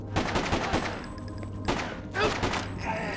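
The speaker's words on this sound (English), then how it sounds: "Oh, they're shooting." Gunfire from a NES-style video game: rapid repeated shots in a steady dense rattle with a few heavier thuds, moderately loud and mixed with other game sounds.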